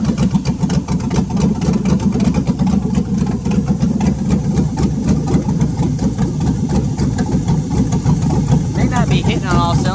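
A 5.3 LS swapped engine in an OBS truck runs at a loud, rough, uneven idle that may be misfiring, heard close and continuous under someone talking.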